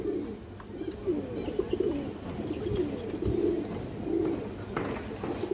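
Pigeons cooing nearby, soft repeated throaty coos in a gentle rolling rhythm over a quiet background.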